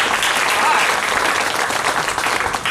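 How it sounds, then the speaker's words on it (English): A crowd at a New Bern gathering celebrating a Guinness World Record certificate breaks into loud, dense applause, a steady wash of clapping with voices mixed in. "So give yourself a round of applause."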